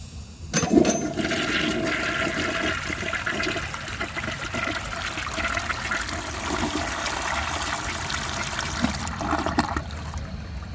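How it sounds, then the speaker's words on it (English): A 1937 Standard Madbrook toilet flushes with a strong, close rush of water that pours steadily for several seconds and then tapers into a refilling trickle, with no voices. "I will show you guys a flush"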